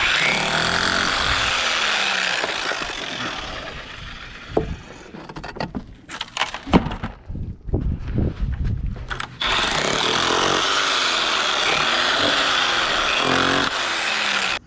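A Bauer 10A hammer drill chisels into a brick chimney during demolition, giving a loud, steady rattling hammering up close, broken midway by a few seconds of scattered knocks and falling debris before the continuous pounding resumes.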